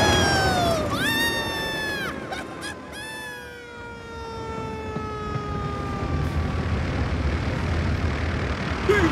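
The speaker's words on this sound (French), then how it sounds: "Arrête l'hélice, tu entends?" A cartoon airplane's propeller engine drones on with a steady whine, sliding in pitch over several seconds, and is joined by bird-like squawks and siren-like swoops near the start.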